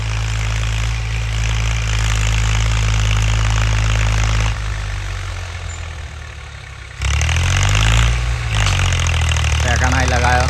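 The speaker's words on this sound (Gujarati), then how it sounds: "પૂરા આરપીએમ પર ટ્રેક્ટર ચલાવે છે મયુરભાઈ." A Massey tractor pulling a 16-disc harrow runs at full RPM, its loud, steady engine drone dipping briefly midway before surging back up. Voices talk over it.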